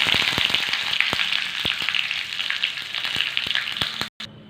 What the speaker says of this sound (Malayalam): ഈ കടുകൊന്ന് പൊട്ടി വരട്ടെ. അപ്പോൾ അത് കടുക് പൊട്ടി വന്നിട്ടുണ്ട്.